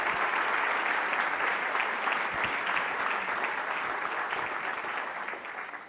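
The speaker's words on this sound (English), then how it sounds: "A big round of applause for these people who've taken their time to come." An audience at a patient safety, science and technology summit applauds its guests, a dense, sustained clapping that holds steady before tapering off slightly at the end.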